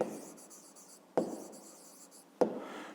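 A pen or pencil writes digits by hand on paper for a grade 5 maths exercise on remainders, a soft scratchy stroke sound in three short bursts, each beginning with a sharper tap, close and quiet with no talking.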